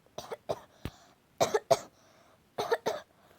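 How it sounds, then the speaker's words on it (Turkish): Several short, sharp coughs come in quick bursts of two or three, close and clear, with brief pauses between. "Sabahtan beri öksürüyorum."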